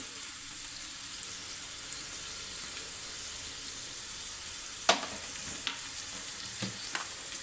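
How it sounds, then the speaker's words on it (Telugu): Capsicum fries in fresh butter in a pan for pav bhaji, a soft steady sizzle with a few scattered spatula taps near the end and no speech. "కంపల్సరీ ఫ్రెష్గా ఉన్న వెన్న వేయండి తర్వాత క్యాప్సికమ్ కూడా వేసేద్దామండి"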